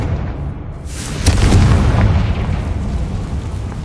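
In Hogwarts Legacy, the Confringo blasting spell detonates with a deep, booming explosion that swells and then rumbles on for a couple of seconds, heavy in the low end.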